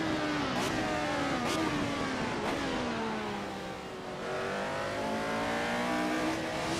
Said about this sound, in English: this Ferrari's going to pass me on the left side